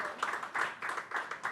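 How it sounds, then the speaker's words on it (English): Audience applause at a book launch for filmmaker Rakeysh Omprakash Mehra, a short burst of fairly faint clapping with uneven rhythmic peaks across the whole moment. "A round of applause for Rakesh ji."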